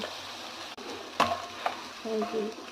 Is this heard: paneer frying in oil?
yes